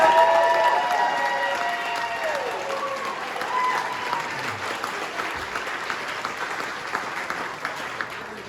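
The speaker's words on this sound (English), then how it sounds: "So let's just give her a huge round of applause." Audience at a golf event dinner applauding, a dense wash of clapping that starts full and gradually tapers over several seconds, with faint murmurs from the crowd.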